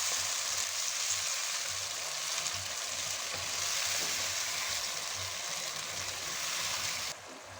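Grated tomatoes and thyme sautéing in a pan for tuna pizza make a steady, hissing sizzle with occasional soft stirring, close and moderately quiet, cutting off abruptly near the end.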